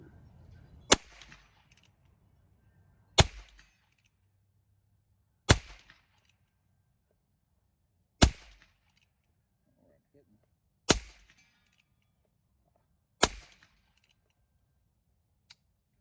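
A Winchester Model 250 Deluxe rifle fires six .22 long rifle rounds, sharp loud cracks spaced about two to three seconds apart, each followed by a brief ringing tail, with quiet between shots.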